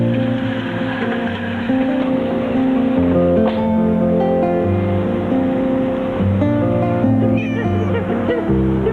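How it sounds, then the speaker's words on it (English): A cat meows repeatedly near a truck by a highway ramp. The drawn-out meows sit over a steady low rumble, likely engine or traffic. "Come back here, cat."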